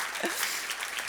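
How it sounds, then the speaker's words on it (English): Brief burst of audience applause at a charity foundation talk, dense clapping filling about a second, with a faint voice briefly underneath. "Can I have an applaud?"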